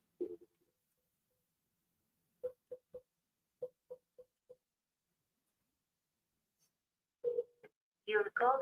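A phone number is dialed to call a sales lead: a few short beeping keypresses in two clusters, separated by silence, followed by a brief stretch of voice near the end.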